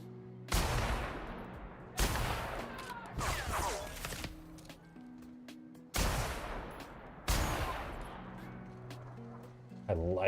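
Heavy gunfire from a gun in The Outer Worlds video game: four or five loud, sharp bursts with ringing decays, spaced a couple of seconds apart, over a low droning game soundtrack.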